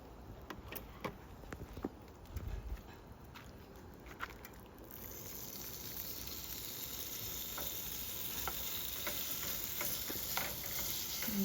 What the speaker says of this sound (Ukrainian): Зараз будемо смажити курочку.